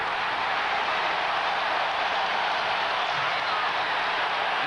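Crowd cheering inside a basketball arena during the 1998 NBA Eastern Conference Finals Game 7, Indiana against Chicago: a steady, dense roar that holds at one level throughout, with no single voices standing out.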